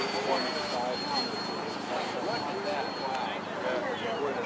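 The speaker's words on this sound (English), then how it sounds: "That whine you hear is actually, of course, the engine." A fully electric model jet running on a 12-cell battery whines steadily overhead at a model aircraft fly-in, a thin high drone that stays constant throughout, with someone talking over it.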